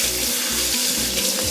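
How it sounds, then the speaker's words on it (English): Tap water running steadily into a kitchen sink while hands are washed, partway through making homemade ravioli; a continuous close splashing hiss with slight rhythmic changes as the hands move under the stream. "Hand wash."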